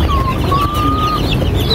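A black Asil gamecock clucks in short, close, loud calls among other fowl, with a thin high cheep drawn out over farmyard background noise.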